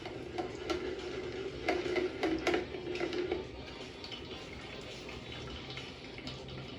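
Water is poured gently over Hidden Falls Estate coffee grounds for a pour-over bloom. A soft, close trickle runs for a few seconds and then fades to a quiet, low background.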